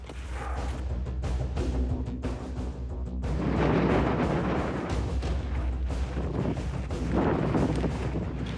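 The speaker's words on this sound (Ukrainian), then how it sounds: "Починається сильний вітер." Strong mountain wind at 5900 metres on Island Peak roars and buffets the microphone in loud, rumbling gusts that swell and ease throughout, with no voices.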